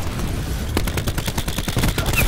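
A cluster grenade in Call of Duty: Black Ops 4 bursts into a rapid string of sharp crackling detonations, dense and close, over a busy game background.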